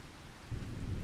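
Rain and thunder in the Farming Simulator 25 farming game: a steady hiss of rainfall with a low rumble of thunder swelling midway, heard alone.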